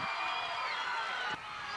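Fans at a high school boys' basketball district championship game cheer in the gym, a bright sustained crowd roar with whoops, audible throughout and dropping slightly near the end.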